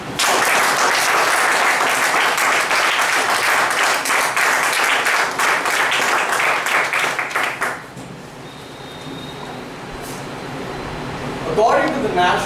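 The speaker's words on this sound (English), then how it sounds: "please welcome with a big round of applause our Vice President" An audience at a speaking event welcomes a club's Vice President of Public Relations with sustained applause, a dense, loud patter of many hands that runs for several seconds, then stops abruptly and leaves a quiet room with a faint hum.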